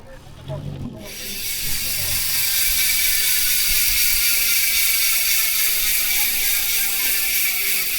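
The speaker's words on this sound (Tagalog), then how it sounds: "yan yung tunog ng Ragusa XM900 MTB hub sa pag naka-free wheel." A Ragusa XM900 MTB hub on a GENT G-60 rigid mountain bike ticks in a fast, continuous buzzing ratchet while freewheeling, starting abruptly after a brief handling noise and holding steady and close.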